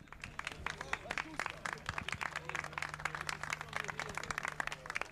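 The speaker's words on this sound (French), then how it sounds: "Merci de ces applaudissements." Crowd applause at a rally awards ceremony, dense rapid clapping from many hands sustained throughout at moderate distance, with a faint low hum beneath.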